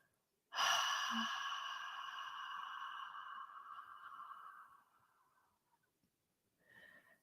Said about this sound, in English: we're going to slowly exhale